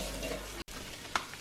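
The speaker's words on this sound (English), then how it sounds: "I've just got some onions, garlic and ginger, just frying it off first." Steady crackling sizzle of onions, garlic and ginger frying in a pan, close by, with a brief clink partway through.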